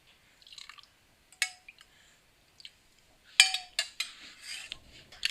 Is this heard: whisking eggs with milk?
yes